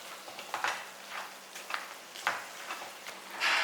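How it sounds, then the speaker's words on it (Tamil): Soaked green moong dal stirred in a pan with greens, giving soft sizzling and scraping stir strokes in irregular bursts, close and moderately loud, with no voice. "ஊற வச்ச பருப்பை வந்து இதில் போட்டுக்கலாம்"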